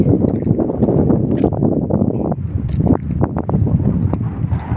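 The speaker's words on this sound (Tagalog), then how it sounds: "Napakalakas ng hangin." Strong wind roars and buffets steadily throughout, with heavy low rumble and gusty bursts, close and loud.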